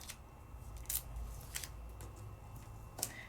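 Washi tape torn off by hand, heard up close as a few short, crisp ripping and crackling bursts spaced apart over a quiet background, with no speech.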